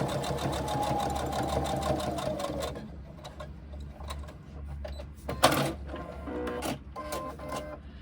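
Sewing machine double stitching a bag handle, a close, rapid mechanical run for about three seconds that stops, followed by a few light clicks and handling noises.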